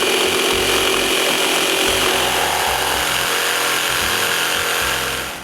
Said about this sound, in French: Avec ma jigsaw, je coupe la majeure partie du tenon.